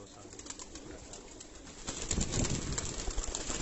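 Breeder pigeons coo softly in a coop, low burbling calls rising slightly in loudness over a few seconds amid faint rustling and background noise.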